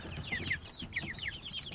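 Ross 308 broiler chickens around 25 days old cluck steadily in a shed, overlapping calls repeating close by with no talk.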